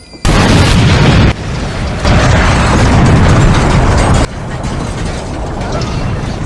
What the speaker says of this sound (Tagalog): Sumabog na yung maliit na asul na banda!